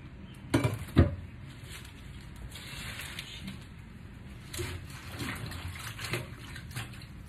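Tap water runs while vegetables are washed. The steady flow is fairly soft, with a couple of sharper splashes near the start and light patter afterward. No talking is heard.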